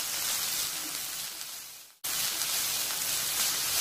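Onions fry in hot oil with ginger garlic paste, giving a loud, steady, close sizzle that cuts out for an instant and then resumes just as strong.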